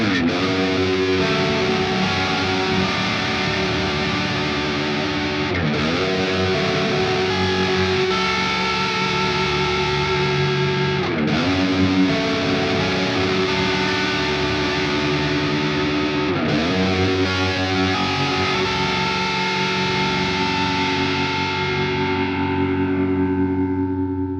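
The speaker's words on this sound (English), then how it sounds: "One that everyone needs is the horror rotary effects." Electric guitar played through a free amp-sim plugin with a horror-style rotary effect: heavily distorted sustained chords swirling and wobbling, struck anew about every five seconds and ringing out loud and alone, the last one decaying at the end.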